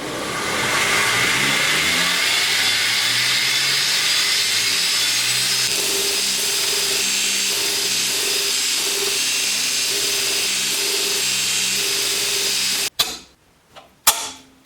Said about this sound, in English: take our little bits of steel over to the grinder, grind off all this oxidation so we have nice, clean, freshly ground steel ready to weld